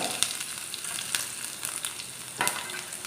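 Crackling sizzle of mustard seeds spluttering in hot oil, with sharp little bursts scattered over a steady frying hiss, no voices.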